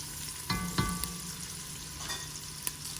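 Onions frying in a home pot for creamed spinach, a steady low sizzle with a few sharp scrapes of a spoon stirring around the pan, close and alone with no talk.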